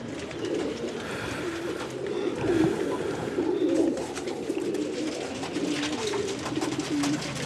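Pigeons coo over and over in a flock, their soft throaty calls rising and falling against a steady outdoor background. The birds sound fairly close, and no one speaks.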